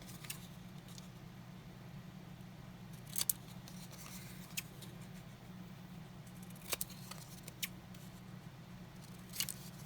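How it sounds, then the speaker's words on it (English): Scissors trim a paper tag for a Paper Pumpkin card, giving a handful of faint, sharp snips spaced irregularly across a quiet room with a low steady hum in the background. "I'm going to trim this tag"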